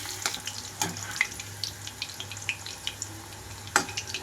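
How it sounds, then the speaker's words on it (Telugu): Steamed bitter gourd pieces deep frying in oil, a soft sizzle with scattered crackles and pops close by. "ఇందులోకి డీప్ ఫ్రైకి తగినంతగా ముక్కలు అయితే ఇందులోకి వేసుకుంటున్నాను."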